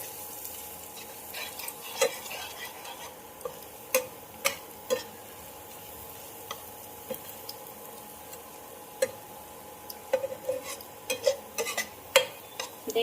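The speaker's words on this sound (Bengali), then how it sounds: "দিয়ে খুব ভালো করে নেড়ে চেড়ে কষে নিতে হবে" Spices stirred and sautéed in oil in a pan for masala eggplant, a quiet sizzle under irregular spatula clicks and scrapes against the metal, growing busier toward the end.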